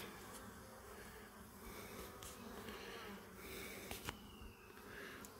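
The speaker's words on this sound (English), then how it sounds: "Quite happy about these bees just flying about doing their own thing." A soft, continuous buzzing of many bees flying around a hive hums all around, faint and steady, with occasional closer passes.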